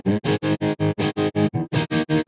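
Distorted electric guitar chugs through a tremolo effect built in Bitwig, mimicking a Green Day pedal sound, with about a dozen evenly spaced pulses chopping the loud, full tone on and off in a steady rhythm.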